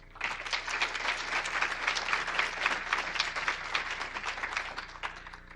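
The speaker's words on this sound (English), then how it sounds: "if we can have one more round of applause for this first cohort of awardees" A crowd at a Minoru Yasui Day activism awards event gives sustained applause for the first cohort of award recipients: dense, lively clapping from many hands, steady and fairly close for the whole stretch.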